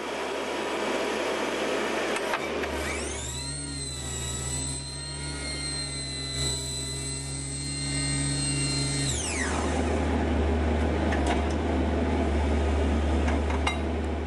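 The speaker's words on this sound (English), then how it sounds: "Sonic drilling uses a mechanically induced high-frequency vibration created by an oscillation that drives drill casing and sampling tools into the ground." A compact sonic drill with a hydraulic vibration head runs close by, a steady loud mechanical drone that rises into a strong high-pitched oscillating whine for several seconds, drops back, then settles into a deep rumbling hum.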